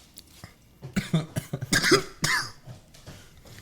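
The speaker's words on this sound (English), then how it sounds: "these are good coughs, don't get me wrong" Several loud, close coughs in an irregular burst, mixed with throat clearing, with a short pause between the early and later fits.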